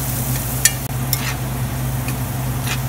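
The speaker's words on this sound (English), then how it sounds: "Our vegetables are sauteing nicely" Vegetables sautéing in bacon fat for Tex-Mex charro beans, a steady close sizzle with a few sharp utensil scrapes and taps against the pan, no voices.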